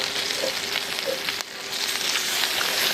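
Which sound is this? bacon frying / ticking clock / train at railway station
bacon frying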